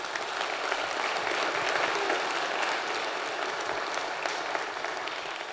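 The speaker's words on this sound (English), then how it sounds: "If you can give them a round of applause." Steady audience applause fills a hall during a university State of the University address, thanking a student and the marketing communications staff, a dense even wash of clapping that continues without pause.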